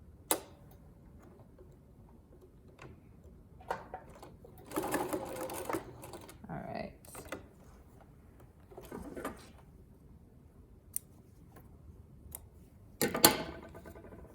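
A sewing machine stitches a lapped zipper in short bursts of fast, rattling stitching separated by quiet pauses, heard close with light clicks and handling noises between runs.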